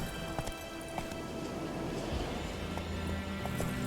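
Roach, Geralt's horse in The Witcher 3: Wild Hunt, gallops with rapid rhythmic hoofbeats on the ground, steady and moderately close, amid a dense game soundscape, with no talking.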